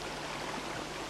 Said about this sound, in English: inexhaustible streams of water flow from the highlands down into the wadis